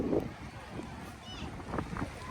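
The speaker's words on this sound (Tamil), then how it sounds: "அதிகளவான கூடிய காற்று இன்றைக்கு இருக்குது" Strong gusting wind buffets the microphone at an outdoor kite festival on the coast at Valvettithurai, a steady broadband rush with low rumbling bursts, while a voice speaks over it.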